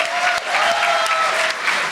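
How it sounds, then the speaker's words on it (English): Audience at a convention voice-acting panel breaking into a short burst of clapping, dense and close, lasting barely two seconds. "So a round of applause for Kathy Westlock."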